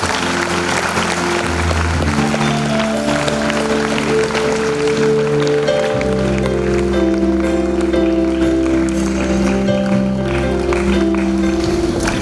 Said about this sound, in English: audience, please, with a big round of applause